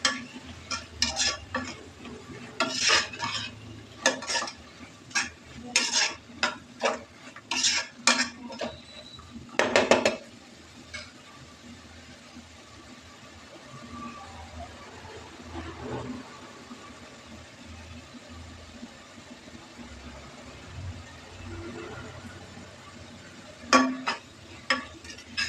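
Curry leaves and coriander leaves frying in a pan for rava roti, with bursts of stirring and clinking utensil strokes that fade into a faint sizzle before a few more scrapes at the end.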